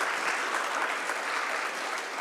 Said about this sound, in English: Can we please give a big round of applause for ma'am?